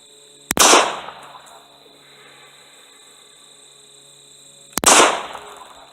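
Two loud handgun shots ring out at target practice, several seconds apart, each a sharp crack followed by a brief echoing tail, with no talking.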